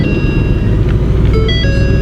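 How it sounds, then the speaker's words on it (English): A 2019 Ford Mustang GT Premium V8 idling right after startup: a loud, steady low engine rumble held close, with a few faint tonal chimes over it and no talk. "Start the car up"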